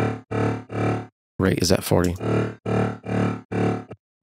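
A heavy metallic dubstep synth bass with Hyper width and LFO modulation plays in short, distorted, growling bursts with pauses between them, with a brief spoken comment in the middle.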